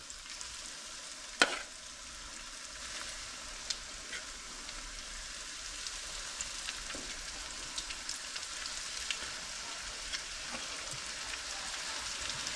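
Crumbed yellowbelly fish pieces fry in hot oil with a steady, close crackling sizzle that holds throughout, with occasional sharper pops and no talking.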